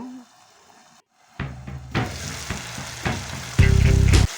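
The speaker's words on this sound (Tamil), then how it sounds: "திருப்பி ஒரு டூ மினிட்ஸ் வதக்கணும்" Masala for restaurant-style matar paneer sautéing in a pan, a steady sizzle broken by scraping stirs and clatters, growing louder toward the end, with no talk over it.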